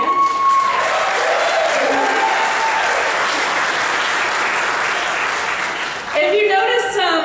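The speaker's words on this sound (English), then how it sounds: "So a round of applause for Olivia." An audience at a dance recital claps in sustained, dense applause that stays loud and even for several seconds before tapering off, with voices over it.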